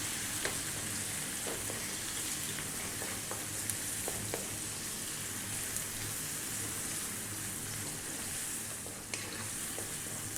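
Food fries on high heat in a pan while being kept moving, a dense steady sizzle with small crackles and occasional scraping taps from stirring, close and moderately loud, no talk.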